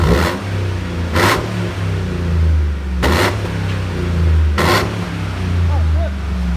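A 2013 Chevy Avalanche LTZ with a 5.3L V8 and a 14-inch MagnaFlow exhaust with quad tips rumbles at idle, then snaps out about four sharp, loud revs close by, spaced a second or two apart.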